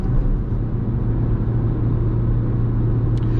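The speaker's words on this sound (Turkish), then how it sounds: "Evet bu dördüncü viteste bu yokuşu rahat bir şekilde çıkar." A 2012 Fiat Albea 1.4 climbs a steep hill in fourth gear, its engine holding a loud, steady low drone with constant road rumble inside the cabin throughout.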